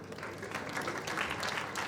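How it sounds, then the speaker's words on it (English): Audience applause at an indoor alumni gathering in Lucknow, a steady wash of many hands clapping, even and sustained, at moderate distance with no other sound. "So let us clap for"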